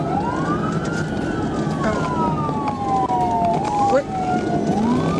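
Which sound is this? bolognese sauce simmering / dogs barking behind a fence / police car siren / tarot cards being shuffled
police car siren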